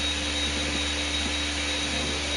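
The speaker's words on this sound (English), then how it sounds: "See, I can't hear you because my mama got the blender on." A kitchen blender running steadily at home, a loud, continuous whirring roar with a constant pitch and no breaks, filling the whole moment.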